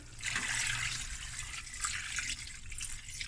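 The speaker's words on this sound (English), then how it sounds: "I'm going to add water" Water pours steadily into a pot of cut potatoes, a continuous splashing rush up close lasting a few seconds.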